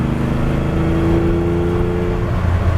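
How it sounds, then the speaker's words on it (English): Lamborghini Countach engine under full throttle, a loud, rough, sustained roar with a rising pitch, heard from close inside the car with no talk. "The other benefits of flooring in this car, you hear it and you feel it."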